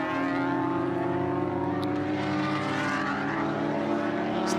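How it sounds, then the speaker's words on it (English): Mixed race car engines in an SCCA E-Production race at Road America, a sustained layered drone of several differing power plants at high revs, steady and fairly loud, with no talk. "Just listening to the cacophony coming off of these very disparate power plants in the class."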